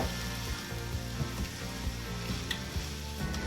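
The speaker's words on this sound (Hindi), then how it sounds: "हल्की आंच पे इस तरह आपने इसको भूनते जाना है।" Makhandi halwa with crushed coconut roasts in a pan over a low flame, giving a steady, close sizzle with soft scraping from stirring throughout.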